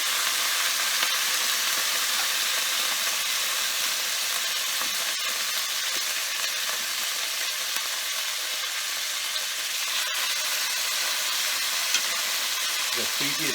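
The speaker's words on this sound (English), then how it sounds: "You can hear the sizzle." Chicken thigh pieces laid skin side down in a hot pan for adobo sizzle and fry with a steady, dense crackle that holds evenly throughout, close and fairly loud, with faint clinks as pieces are added.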